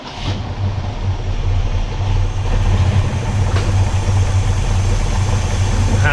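An eight-cylinder car engine runs at a steady idle close to the microphone, a low, even rumble that settles right after the start and holds without talk.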